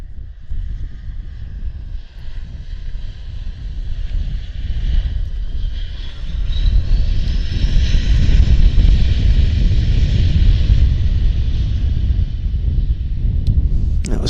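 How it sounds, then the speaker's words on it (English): An Alaska Airlines Embraer jet lands at Vancouver Airport, its engine whine and rushing roar building partway through and then holding loud to the end, with no voices. "Alaska Airlines, Embraer, nice landing for us"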